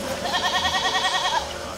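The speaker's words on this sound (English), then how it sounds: "There is a farm on the side of the castle with goats," Goats on a farm beside a castle bleat in a steady, wavering call, moderately near and alone, with a faint outdoor background.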